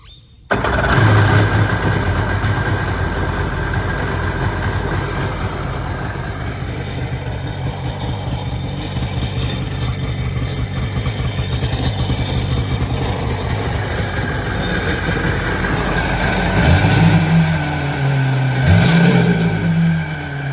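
A Sea-Doo XP jet ski engine cranks and catches, then runs steadily with a loud, rough idle, revving up slightly toward the end.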